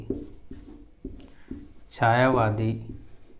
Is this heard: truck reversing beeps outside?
no